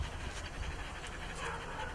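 A dog trained for aggression toward other dogs pants steadily and nearby, with fast rhythmic breaths over a noisy backdrop and faint voices in the distance.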